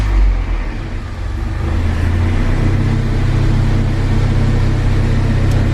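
An old Toyota Tacoma truck engine starts up close by and settles into a steady, droning low idle that continues to the end, with no one speaking.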